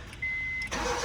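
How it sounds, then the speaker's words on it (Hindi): A Honda Civic with a TDC sensor no-pulse starting fault, a steady whine of cranking, then the engine catching and roaring up loudly right near the microphone. "ये गाड़ी दोबारा फिर स्टार्ट करके दिखाता हूँ"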